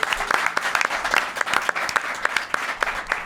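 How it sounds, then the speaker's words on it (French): Brief applause from the audience of a Quebec comedy game show, a crowd clapping in a lively burst that holds steady for a few seconds. "Alors, on peut les applaudir."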